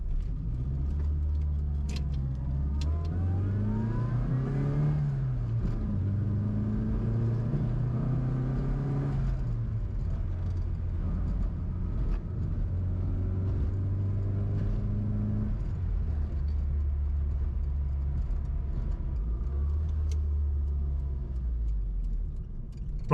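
A Classic Mini engine is driven at full throttle under load, a close, loud, buzzy drone that climbs in pitch through repeated accelerations with brief drops at gear changes, sustained throughout with no voices.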